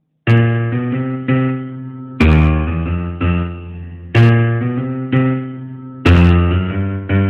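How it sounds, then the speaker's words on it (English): Blues piano left-hand propulsion riff, a driving gospel-flavoured figure played alone: loud, close chords struck in repeating pairs about every second, each ringing and decaying before the next accent. "Today I'm going to teach you a new left-hand riff called left-hand propulsion."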